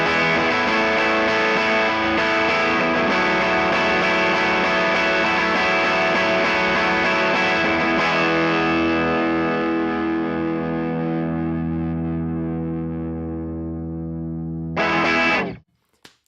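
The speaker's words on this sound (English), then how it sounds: "we're going to turn the clipping to hear the germanium" Electric guitar through a Pettyjohn Chime MKII Deluxe overdrive set to germanium clipping rings out one long sustained chord, fading slowly over about fifteen seconds before a brief final strum and sudden stop.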